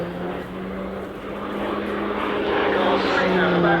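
Pilatus PC-9M propeller trainer flying a display along the main runway, a steady droning engine and propeller roar that builds slightly louder toward the end, heard at a distance under crowd-scale ambience.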